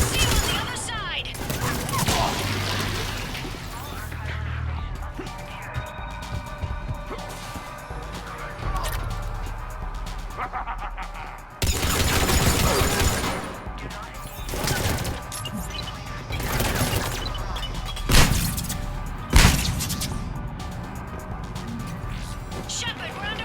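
A Mass Effect Legendary Edition firefight, with bursts of gunfire, impacts and crashes rising and falling over a long stretch under game music and occasional voices.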